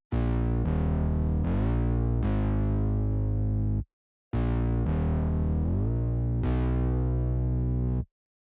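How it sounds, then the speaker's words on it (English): A distorted, effects-heavy synth bass line plays two repeated phrases of sliding notes, with a brief gap between them and no voices. "I laid down this bass line, which first of all sounds like this"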